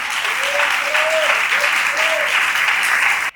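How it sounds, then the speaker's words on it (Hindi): A church congregation claps loudly during a live Sunday service. The applause is dense and continuous, with a few faint tonal sounds from voices or an instrument riding over it, and it cuts off abruptly at the end. "आइए जोरदार तालियां यीशु के जलाल के लिए बजाइएगा।"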